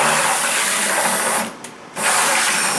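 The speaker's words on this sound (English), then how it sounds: "I like to use a paint mixer on a drill" Steady whirring of a drill spinning a paint mixer through hot homemade laundry detergent, continuous and close, briefly easing off before revving back up.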